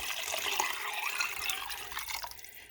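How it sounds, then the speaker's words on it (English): Well water poured into a cooking pot while making goulash: a continuous splashing, gurgling stream of liquid with bright bubbly texture, close and steady, tapering off at the end, no voices. "Now it says to put in the water."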